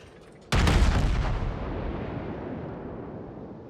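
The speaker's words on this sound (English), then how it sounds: "And this salvo is probably enough to do it." A sudden loud booming gun salvo from a warship in World of Warships erupts after a short quiet lead-in, then rumbles and decays over several seconds with no speech.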